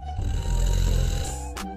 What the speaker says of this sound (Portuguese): Você aí, roncando feito a rapariga e não me deixa dormir.